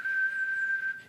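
A person whistles one steady, pure tone, held evenly and fairly loud for about a second with no talking.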